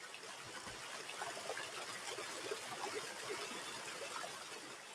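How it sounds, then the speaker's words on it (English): Water flows steadily with a soft, continuous trickling rush, constant and unbroken throughout. "the simple sound of flowing water"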